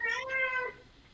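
A house cat gives a single clear, close meow, rising then falling, lasting about two-thirds of a second before quiet room tone.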